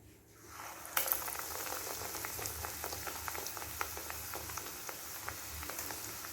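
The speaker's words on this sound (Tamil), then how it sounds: "எண்ணெய் நல்லா காஞ்சிட்டு இப்போ நம்ம இதை போட்டு எடுக்க வேண்டியதான்" Brinjal bajji, battered eggplant slices, fry in hot oil with a dense, steady crackle and bubbling, close and fairly quiet, with a sharper spatter as a piece drops in near the start.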